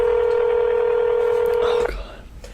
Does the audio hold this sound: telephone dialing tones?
yes